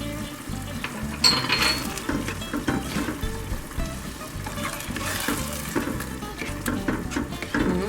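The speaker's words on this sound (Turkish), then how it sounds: "Şimdi karıştırıyoruz ve tuzumuzu ilave edeceğiz." Artichoke dolma filling stirred in a pan on a lit stove, a steady close sizzle and frying crackle with scraping stir strokes throughout, no voices.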